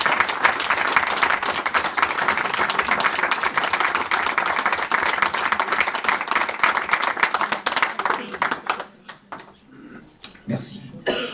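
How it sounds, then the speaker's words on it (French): Members at an annual association meeting clap for Jacqueline's departure, a loud, close burst of many hands that keeps up for several seconds, then thins into scattered claps and fades out. "J'aimerais, si vous voulez, qu'on salue son départ en applaudissant,"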